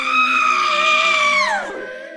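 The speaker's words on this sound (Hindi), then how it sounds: "कुछ ही देर बाद चीख की आवाज़ आई" A single loud, sustained high-pitched scream rings out in a horror story, holding steady for about a second and a half before bending sharply downward and trailing off.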